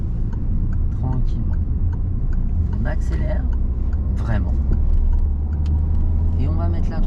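A car accelerating gently during a driving lesson, its steady engine hum rising under continuous conversation inside the cabin, with faint ticking in the background.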